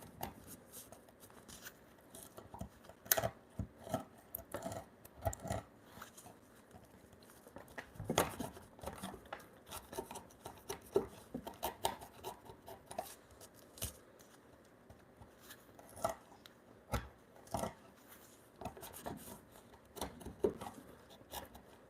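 A hand chisel cuts a mortise in clamped timber for a timber-framed bunk bed, giving a quiet run of sharp, irregular taps and scraping knocks. The strikes are scattered and fairly close.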